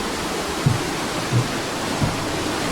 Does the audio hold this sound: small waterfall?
yes